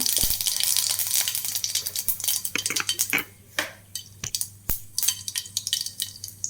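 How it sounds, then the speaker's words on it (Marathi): Mustard seeds splutter in hot oil in a pan while making bread usli, a run of sharp irregular pops and crackles with metallic clinks over a low steady hum. "पळयती तेल तापलें हांव हाका सासम घालता"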